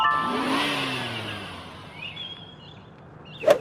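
A car engine revving sound effect plays quietly and briefly, a soft, fading rev with a short sharp accent at the end.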